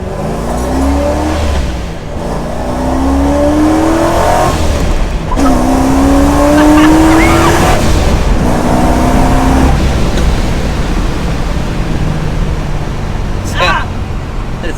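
A 900 hp supercharged car with heavy torque, built for drifting, accelerates hard through several rising gear pulls, its whining engine note sweeping upward and dropping at each shift, loud and steady.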